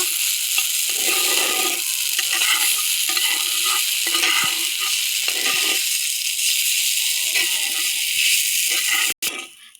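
Pointed gourd frying in a pan for a sweet-sour spicy dish, a loud close sizzle broken by repeated spatula scrapes and stirs, ending with an abrupt knock, no speech.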